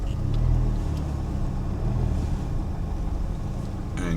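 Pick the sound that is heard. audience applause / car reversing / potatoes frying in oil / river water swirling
car reversing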